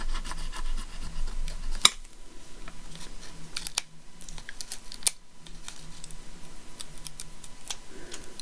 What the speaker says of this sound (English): Just give it another rub.